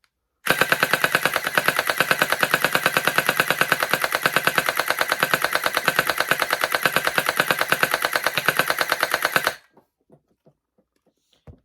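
A Ferventoys Holiday SS21 gel blaster toy gun fires on full auto in one loud, rapid, unbroken burst lasting about nine seconds, followed by a few faint scattered clicks.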